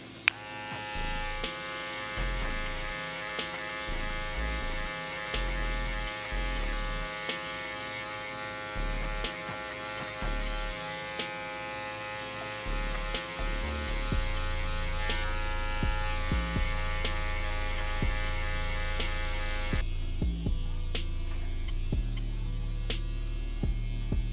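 Hair clippers fitted with a number 3 guard cutting hair, a continuous electric hum with a bright buzzing tone and faint ticks, shifting pitch and texture about two-thirds through.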